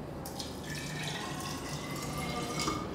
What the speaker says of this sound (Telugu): ఈ బాటిల్లోకి మనం ఆర్ఓ వాటర్ ఇస్తున్నాము.